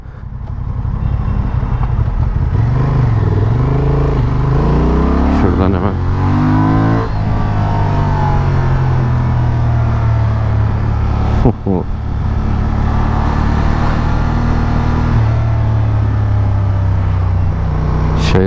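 A Honda Transalp 750 motorcycle engine revving hard at high rpm, loud and close, with rising and falling pitch sweeps as the throttle is blipped repeatedly, a voice talking over it.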